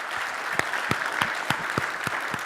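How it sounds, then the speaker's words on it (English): Audience applause at a Severstal industrial reliability talk, light and moderately distant, with individual claps standing out over a soft steady patter. "Let's give him a round of applause."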